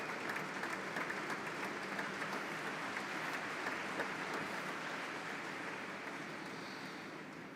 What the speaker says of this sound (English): I would like to ask you for a big applause for that.